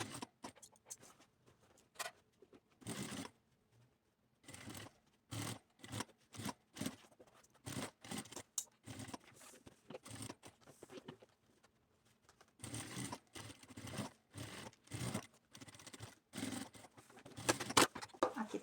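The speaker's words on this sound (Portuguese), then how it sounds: "E aqui nós vamos passar uma costurinha em cima e embaixo." A sewing machine runs in repeated short bursts, stitching a seam above and below a strap on a fabric backpack, with pauses between runs and handling noises, no talking.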